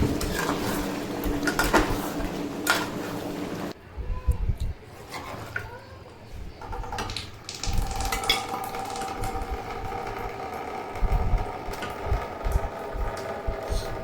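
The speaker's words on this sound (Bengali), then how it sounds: "খানিকক্ষণ নাড়াচাড়া করে নিয়ে আমি এটা বয়েলে বসিয়ে দেবো।" Mutton kosha being stirred in a cooking pot, with repeated scraping and metallic clinks of a spoon against the pot over a low sizzle, pausing briefly before the stirring resumes; faint talk in the background.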